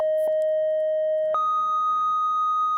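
A XAOC Devices Odessa additive oscillator module plays a clean, steady pitched tone tuned to C4, then jumps abruptly to a higher steady tone, with brief clicks at the transitions.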